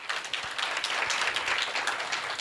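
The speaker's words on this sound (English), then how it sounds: "A round of applause for that." Audience applause at a youth climate panel discussion in Botswana, a steady dense round of clapping filling the whole moment with no voices over it.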